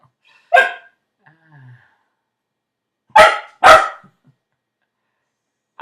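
A dog barks sharply three times, close by, with one bark, a long pause, then two in quick succession, and a faint whimper in between.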